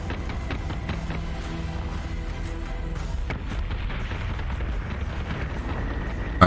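Warship guns and explosions in the space-combat game Battlestar Galactica Deadlock, a dense rumbling barrage of booms and blasts layered over continuous low battle noise, with no talk.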